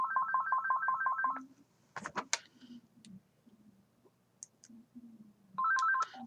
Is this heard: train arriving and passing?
no